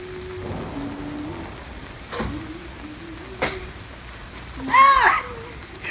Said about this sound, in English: It's raining so hard. I don't know if you can hear that